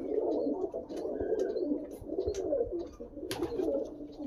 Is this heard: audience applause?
no